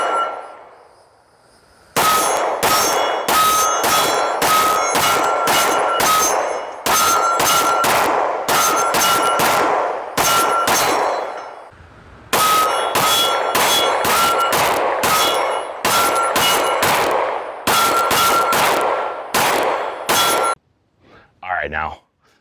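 SIG P320 pistol in an M17X-style build with an upgraded trigger, firing long strings of rapid, loud, sharp shots in two close volleys with a brief pause between, and no talking.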